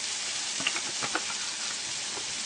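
Fideo noodles sizzle and crackle in hot oil, a steady close-up frying hiss with a few small pops and stirring clicks.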